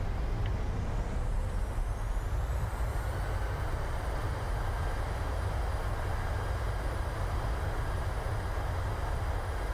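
An airliner deploys reverse thrust after landing in Microsoft Flight Simulator 2020, heard as a steady, loud engine roar with broadband rumble and a faint rising whine, continuous throughout.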